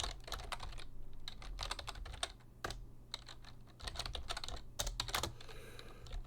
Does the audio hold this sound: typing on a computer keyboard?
yes